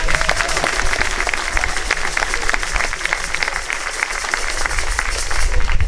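A congregation at a closing Mass for a pastoral visit applauds the service volunteers, a steady, full round of clapping from many people filling the church, with faint crowd murmur underneath.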